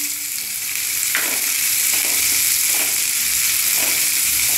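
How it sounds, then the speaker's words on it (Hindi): Onion and capsicum frying in a pan for homemade Indian-style macaroni give a steady, close sizzle, with occasional stirring scrapes cutting through the hiss and no voices. "प्याज हल्का सा पकाना है, इसके बाद हमें शिमला मिर्च डालना है।"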